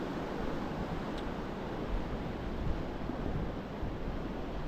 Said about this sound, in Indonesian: Gila ombaknya.